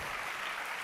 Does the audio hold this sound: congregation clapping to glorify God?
yes